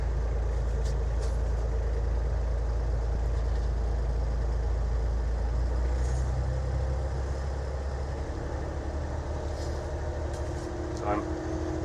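A construction loader's diesel engine rumbles continuously at close range, a heavy low idle whose pitch gradually rises as the revs are slowly increased, with faint clanks on top.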